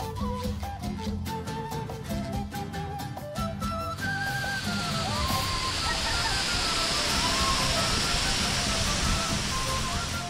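Steady rushing water fills the clip, a broad continuous roar of falling water that grows fuller after the first few seconds, with faint tonal sounds early on.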